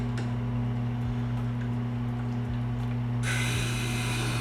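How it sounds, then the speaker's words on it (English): A Tormek sharpener grinding a throwing axe, with a steady motor hum and a continuous gritty scraping that brightens and intensifies toward the end, close and alone. "This Tormek is a cheat code for sharpening, let me tell you."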